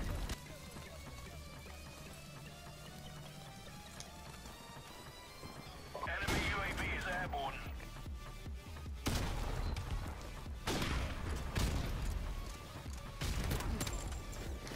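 Call of Duty video game gunfire, including sniper shots, comes through as bursts of crackling shots and crashes under a person's voice, growing denser and louder midway.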